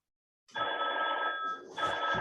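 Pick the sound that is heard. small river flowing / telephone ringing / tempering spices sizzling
telephone ringing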